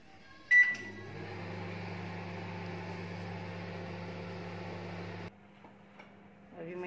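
A microwave oven set to grill with its timer: a button beep, then a steady mechanical hum of the running appliance for several seconds, stopping abruptly, followed by faint clicks and the hum resuming.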